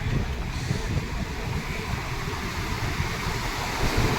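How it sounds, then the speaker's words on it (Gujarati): Heavy water pours through Mukteshwar Dam in a constant, dense roar of rushing flow that holds steady and close throughout. "આ તો જબ્બર પાણી હેડે"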